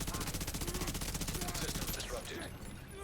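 Rapid automatic gunfire in The Division 2 rattles in a fast, even burst for about two seconds, then breaks off into scattered noisy action with a voice speaking over it.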